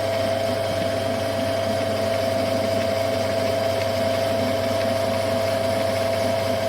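A metal lathe turns down steel stock to 32 mm for an ER collet chuck thread, giving a steady, continuous machine hum with a constant tone throughout, close and even, with no talking.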